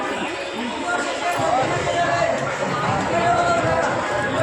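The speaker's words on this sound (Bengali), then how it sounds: "দেখো বন্ধুরা কত ভিড় এখানে" A dense crowd packs a temple on the first Monday of Shravan, where people pour water on a Shiva lingam under a banyan tree; loud, continuous babble of many voices with shuffling movement close around.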